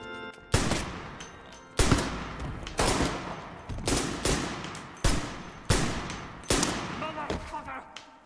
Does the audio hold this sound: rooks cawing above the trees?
no